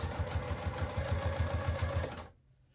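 A sewing machine stitches waterproof canvas for a zippered wristlet clutch purse, running in a fast, even chatter of stitches close to the microphone before stopping abruptly near the end.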